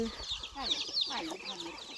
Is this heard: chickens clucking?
yes